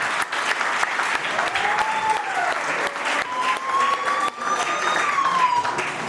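A crowd at a 50th birthday celebration bursts into sustained applause for Bernard, dense clapping that runs steadily throughout with cheering voices and a few whistles mixed in.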